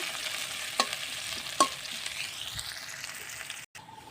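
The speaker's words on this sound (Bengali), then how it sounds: "এবার দিয়ে দেবো পেঁয়াজ কুচি, রসুন কুচি, সবগুলো লাল লাল করে ভাজি নেব" Chopped onion and garlic fry in a pan for a red amaranth leaf stir-fry, a soft steady sizzle with a couple of sharp spatula clinks and a brief cut near the end.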